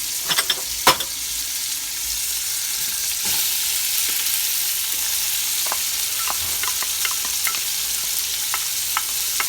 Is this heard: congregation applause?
no